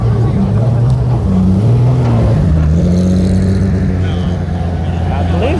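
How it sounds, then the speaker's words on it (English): Race car engines rumble and rev in the pit area at the Acura Grand Prix of Long Beach, a steady loud drone with rising and falling pitch and faint crowd talk underneath. "hearing all the cars roar"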